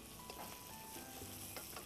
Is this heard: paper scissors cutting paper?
no